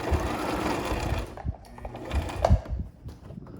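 A sewing machine stitching a vinyl tab runs in a short mechanical burst, then slows into a few scattered clicks and knocks as the stitching backs up over the thread.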